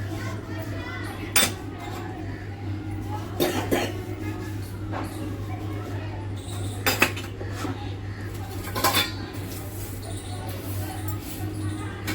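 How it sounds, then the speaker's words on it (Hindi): Puja utensils are washed in a kitchen sink, with scattered clinks and clatters of metal dishes and pots against each other over a steady background hum, and an occasional cough or throat clearing nearby. "मम्मा भी आ गए हैं किचन में बर्तन धोने के लिए भगवान जी के"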